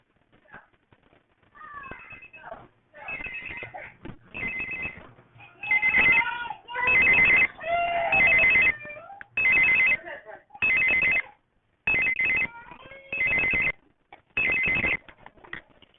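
A landline telephone in a home broadcasting studio rings in repeated bursts of electronic trilling, with short gaps between rings, fairly loud and close against a noisy background.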